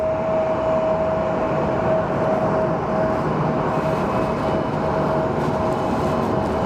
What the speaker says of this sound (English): Okay, yeah, it was a CRJ. That thing was loud, man.